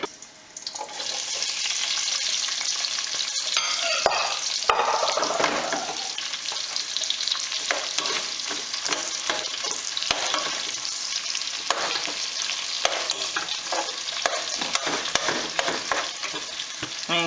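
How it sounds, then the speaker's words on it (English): Onions frying in smoking palm oil in a saucepan for okra stew, a loud steady sizzle with busy crackling and repeated stirring clatter throughout, no one speaking. "I'm going to fry this for about 5 minutes till the onions start to go slightly brown or soft"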